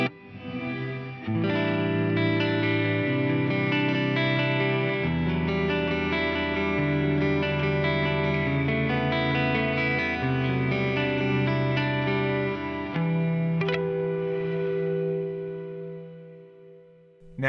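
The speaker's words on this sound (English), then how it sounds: "That is going to make your reverb even bigger sounding." Electric guitar chords through an Eventide Blackhole reverb pedal set with pre-delay, swelling into a huge, sustained wash of ambience that hangs and layers over the playing before slowly fading out.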